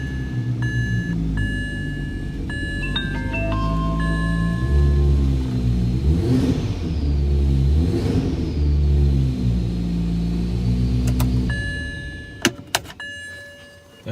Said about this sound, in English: taking the key and putting it in the slot and starting the car